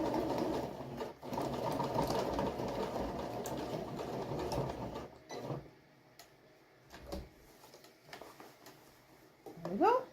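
A sewing machine stitching a fabric cushion cover, running steadily for about five seconds, then short bursts with pauses, with a person talking over it.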